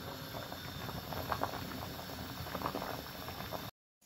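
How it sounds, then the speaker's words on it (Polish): Beans simmer in a pot over a gas flame for Polish fasolka po bretońsku, a steady close bubbling and rolling boil with a faint burner hiss, continuous until a brief cut to silence at the end. "No już się gotuje, tak powinno się gotować fasolkę."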